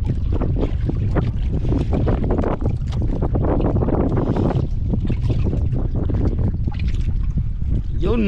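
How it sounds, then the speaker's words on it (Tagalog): Strong wind buffets the microphone in continuous loud gusts, a roaring rumble with water and boat sounds beneath and voices in the background. "Alakas pa yung hangin."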